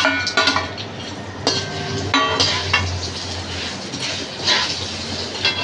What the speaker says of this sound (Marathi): त्यानंतर टाकणार आहोत आपण जे खोबरं आणि चण्याची डाळ जी तळून घेतली आहे ती टाकतो